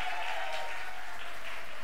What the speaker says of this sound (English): we should give a round of applause to that music team.